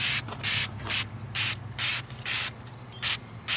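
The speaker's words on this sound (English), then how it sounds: "I'm gonna go over with some undercoat rubberized spray" Short bursts of rubberized undercoat spray, applied to a Jeep front bumper, hiss about every half second, each a sharp aerosol blast over a low mechanical hum.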